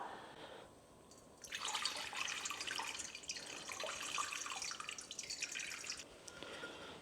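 Water is poured into a bowl for light rye bread dough, a bright steady splashing stream lasting several seconds, close and loud, tapering off at the end.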